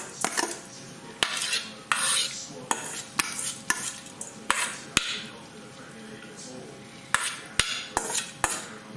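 A metal utensil scrapes and knocks against a cooking pot as par-cooked rice is scooped out for chicken wing biryani, a steady run of clinks and taps at close range with a little speech.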